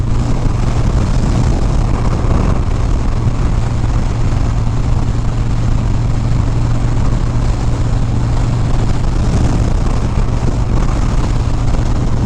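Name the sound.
wind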